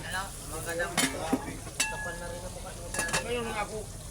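Octopus cooking in a pan gives a steady sizzle, with sharp clinks and scrapes of a utensil against the pan and a few voices talking over it.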